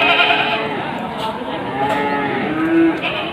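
A Boer crossbreed goat bleats loudly and nearby, a drawn-out wavering call with other animal cries and some low background voices.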